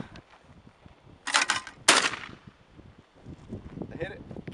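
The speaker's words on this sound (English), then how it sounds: "We're shooting all these bullets." Gunshots from a gun fired at an outdoor shooting session, two sharp loud bangs in quick succession close by, with people talking around them.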